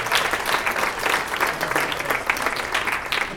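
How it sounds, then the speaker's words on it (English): Brief, lively applause for volunteers at a mental health show event, a crowd clapping in a steady wash with small surges, lasting only a few seconds. "Give yourself a round of applause to volunteers."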